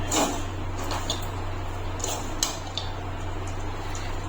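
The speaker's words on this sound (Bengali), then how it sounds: "ঘি দিয়ে একটু নাড়িয়ে চালিয়ে নেব" Vermicelli is stirred with ghee in a pan, soft scrapes and a few light clicks of a spatula over a steady background hum.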